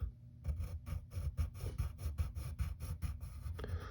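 A pencil draws lines on paper in a steady rhythm of short, close scratching strokes, quiet and alone.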